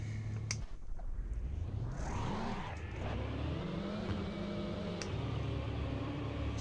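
A race car engine from the Assetto Corsa driving game revs and changes pitch continuously, with rising and falling sweeps as it accelerates, loud and steady with no talking.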